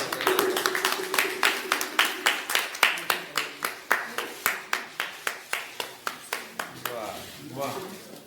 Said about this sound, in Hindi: पहले पुस्तक विमोचन करने के बाद एक बार जोरदार ताली होनी चाहिए